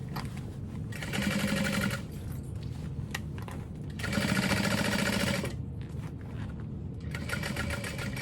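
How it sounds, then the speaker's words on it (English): Sewing machine running in three bursts as it stitches around the top edge of a bag lining at a long stitch length, a fast steady whirr alternating with quieter pauses. "I'm going to sew with the lining side facing up"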